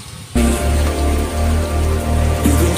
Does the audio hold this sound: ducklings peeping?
no